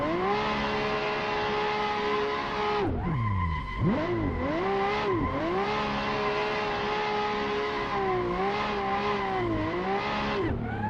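High-horsepower drift car in the Assetto Corsa video game, held in first gear: a loud, steady engine whine that dips and revs back up as the throttle is worked, with tire screech mixed in, close and continuous.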